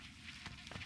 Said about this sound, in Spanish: hay estas abejas que claramente me van a molestar